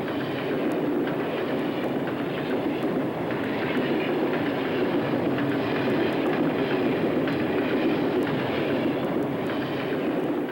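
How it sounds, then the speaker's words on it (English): A coal unit train rolls past on the railroad with a loud, continuous rumble and rhythmic clickety-clack of wheels over rail joints, close by and steady throughout. "a railroad provided a unit train, a train that carries only one kind of cargo to a single destination."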